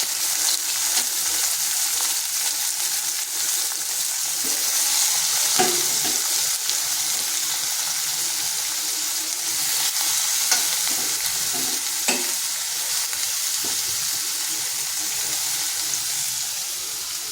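Bitter gourd pieces fry in hot oil in a wok with a steady, dense sizzle, punctuated by occasional scrapes and stirs, close and loud throughout with no talking.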